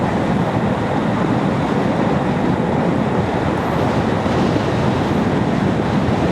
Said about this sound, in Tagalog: Ayun tren